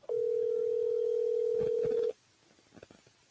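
Steady telephone dial tone heard while placing a call, a single continuous loud tone lasting about two seconds and then cutting off, followed by faint background noise.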